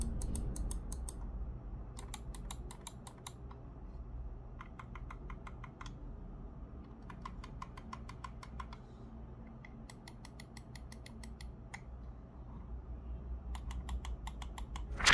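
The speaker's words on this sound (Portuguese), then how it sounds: "para quem quiser saber como é a sonoridade dos botões do mouse, né, tem essa preocupação, tá aqui os barulhos" Button clicks of a Delux M800 wireless RGB mouse, recorded close: bursts of sharp, rapid clicking in clusters of several presses, separated by short pauses, over a low steady background hum.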